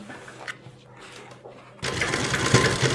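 An electric sewing machine stitches along the fabric edge of an Afghani salwar, starting after a quiet pause and then running as a loud, continuous whir.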